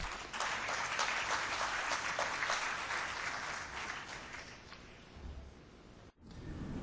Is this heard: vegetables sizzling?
no